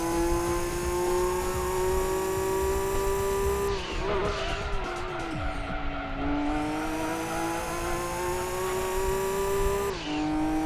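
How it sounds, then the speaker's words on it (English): A race car engine in the video game Gran Turismo 2 drones loudly and continuously during a race at Laguna Seca, its pitch climbing and dropping sharply at several gear changes and braking points. "This car sounds so good."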